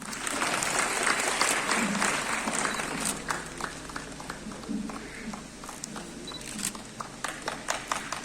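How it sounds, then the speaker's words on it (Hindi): An audience claps at the inaugural program of the 68th All India Cooperative Week at Teachers Bhawan, Jammu. The applause is loud and sustained from start to finish, with a dense patter of many hands and faint background voices. "तालियां रुकनी नहीं चाहिए।"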